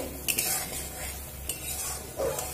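Spiced desi chickpea ghugni masala being stirred and sautéed in a pan, with repeated scraping spoon strokes over a soft, steady sizzle, close and moderately loud, no voices.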